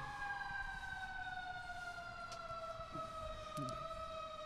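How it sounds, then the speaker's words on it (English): An emergency siren passes outside an office in Trenton, a steady wailing tone that slowly falls in pitch over a constant background hum of traffic, fairly distant and unaccompanied by talk. "as the siren goes by again"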